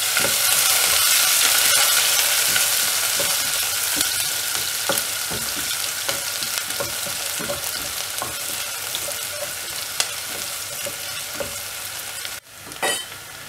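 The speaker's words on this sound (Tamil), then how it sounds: "கடுகு பொரிஞ்ச உடனே வெங்காயத்தை ஆட் பண்ணி வதக்கி விட்டுடலாம்." Onions frying in oil with mustard seeds and urad dal, a loud continuous sizzle with crackling pops and stirring scrapes throughout, close up, ending with a brief clatter.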